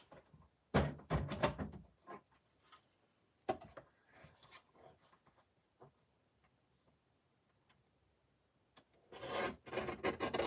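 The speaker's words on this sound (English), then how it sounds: "I can just trim off the side and add it to my card." Paper card being trimmed along its side during a live craft session, giving short rasping cuts in a few bursts with quiet gaps between, close and fairly loud, with no talking.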